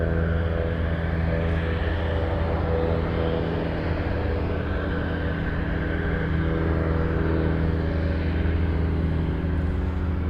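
A heavy cargo airliner on its takeoff roll at Anchorage, a loud, continuous engine roar with a deep, steady rumble that holds without a break throughout.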